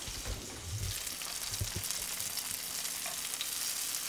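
Gnocchi sizzling and frying in a pan, tossed with a scraper so they shuffle and patter against the metal under a steady crackle, fairly close with no talking.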